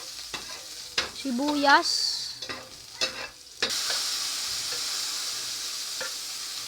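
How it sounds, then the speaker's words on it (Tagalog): Garlic hits a hot pan for sautéed sardines and settles into a steady, fairly loud sizzling hiss that fills the last half. A few brief words and stirring clatter come before it. "Pag mainit na ang kawali, lagyan ng bawang."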